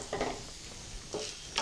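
Raisins and roasted gram are stirred and lightly roasted in a pan for a flattened-rice snack mix, with a faint sizzle and a few soft spatula scrapes.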